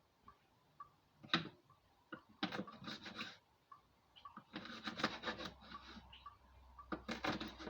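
A dull knife chops cabbage on a wooden cutting board in quick bursts of close, quiet tapping and crunching, separated by short pauses.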